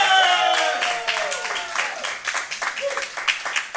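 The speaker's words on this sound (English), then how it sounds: "Big pop from the crowd for Cheeseburger" A wrestling crowd cheers and claps as a wrestler from Trenton, New Jersey is introduced, a loud, dense roar with applause filling the whole clip, with some voices rising above it.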